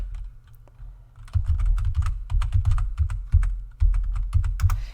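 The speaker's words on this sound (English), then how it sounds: "I'm typing it when I find the right marks on my keyboard" Close, crisp keystrokes on a computer keyboard come in quick irregular bursts, with short pauses between runs of clicks and a low hum in the background.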